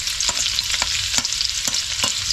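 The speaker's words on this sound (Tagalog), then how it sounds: "Mga ka-ichoy, gigisa na po natin. Grabe ang lakas nito." Food sautéing in a hot pan, with a loud, continuous sizzle broken by regular scraping stir strokes about every half second, close up and with no voices.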